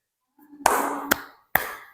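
Students in a classroom clap on a teacher's count, three sharp separate claps, close and clear with short gaps between them.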